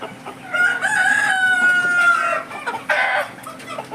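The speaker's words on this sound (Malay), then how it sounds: "ni ayam ni dia belum bertelur lagi" Chickens cluck around a rooster crowing loudly and close by, its long drawn call running for about two seconds before a second shorter burst of crowing, with steady farmyard clucking and fowl noise underneath.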